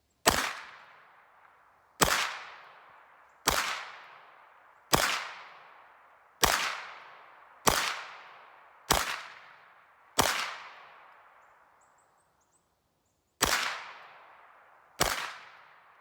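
Hi-Point 995TS carbine fired outdoors at a range: ten loud, sharp single gunshots, mostly evenly spaced about a second and a half apart, each with a ringing decay and one longer pause before the last two.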